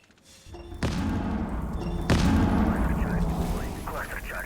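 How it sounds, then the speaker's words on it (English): Heavy thuds and booming blasts from distant explosions in the Rainbow Six Siege video game hit in quick succession, deep and rumbling, under a busy layer of game noise and voices. "Hit some distant explosions"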